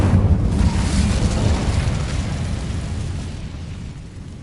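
Incendio fire spell cast in Hogwarts Legacy, a loud roaring whoosh of flame that bursts at once and slowly fades over several seconds, heard alone with no talk.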